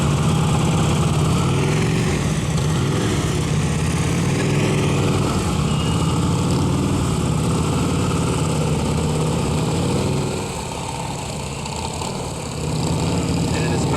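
Police motorcycle engines idle and rumble steadily as the bikes crawl slowly through a cone course at a county police block party demonstration. The sound is loud, continuous and close, with a slight dip in level near the end.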